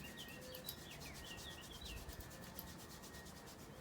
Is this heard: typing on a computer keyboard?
no